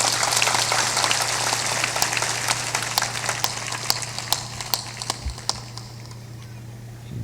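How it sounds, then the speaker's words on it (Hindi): An audience at a live Hindu satsang gathering in Banka, Bihar claps along, a rapid, dense patter of hands, moderately loud and steady, with a low hum beneath. "तुम ताली बजाओ"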